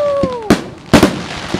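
A star mine barrage at the 61st Tottori City summer fireworks festival: a falling whistle gives way to two loud, booming bursts close together, with a softer pop trailing after.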